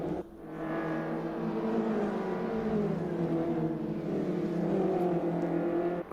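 Subaru touring car engine in a racing video game, a loud sustained roar with harmonic pitch sweeps as it climbs through the revs, dipping around a gear change near the middle before building again, heard alone without talk.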